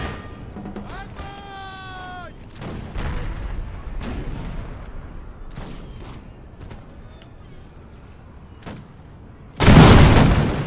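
Musket volleys and artillery booms in a battle in the Napoleonic-era strategy game Imperial Splendour, as Russian troops fight: scattered sharp cracks and thuds through the middle, ending in one loud, close blast, with a voice speaking over the din.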